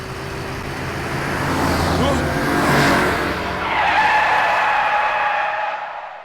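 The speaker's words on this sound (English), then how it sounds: "Sentaro and Sachiko get caught in a motorbike accident" A motorbike skids in an anime accident scene: a loud rising tire screech and engine roar that swells, peaks and then fades out over several seconds, with no talk over it.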